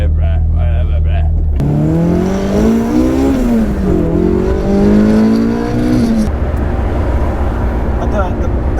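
Toyota AE86 with a swapped 4.8 differential revving and accelerating from inside the cabin, a rising then wavering engine note over several seconds before easing off, with talking voices around it.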